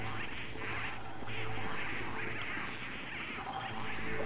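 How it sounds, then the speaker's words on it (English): Rubber ducks in a video game quacking repeatedly in a dense, overlapping flurry, loud and continuous with game noise behind. "There's too many ducks."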